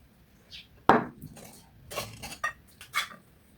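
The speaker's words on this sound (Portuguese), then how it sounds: "Agora eu vou misturar o coco no recheio." Spoon scraping and clinking against a bowl while coconut is stirred into pineapple cake filling, a sharp knock followed by several lighter, irregular metallic scrapes and taps, close and fairly quiet.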